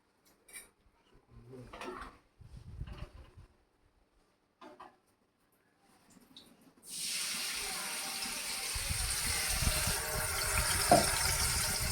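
Food ingredients for a shrimp and poppy-seed dish are rinsed under a running tap; after a few quiet knocks and handling sounds, a steady gush of water starts and continues to the end, with people talking nearby.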